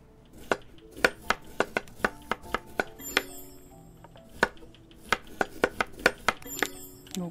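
Knife chopping food in the cooking simulator game Chef Life, a rapid run of sharp, crisp cutting strikes in two bursts separated by a short gap, loud and close with a clinking kitchen sound, no talk.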